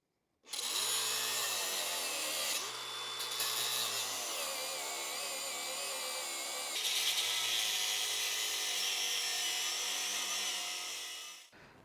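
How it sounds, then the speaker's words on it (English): A power tool cuts through the welds on a steel plate of an Allis Chalmers D17 tractor. It grinds loud and close in a continuous whine that shifts pitch for about eleven seconds before winding down. "What I've decided to do is just cut the welds on this plate here and just remove that plate so that I can take the bolts out."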